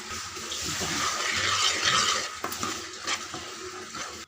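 A spoon stirring lentil paste for sambar in a pot, with steady wet scraping and swishing that continues throughout, plus a few light knocks against the pot.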